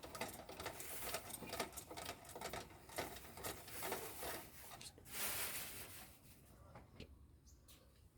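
A Singer or Butterfly sewing machine turned by hand after oiling gives a close, fast mechanical clatter and whir that runs steadily for several seconds, then tapers off into quiet.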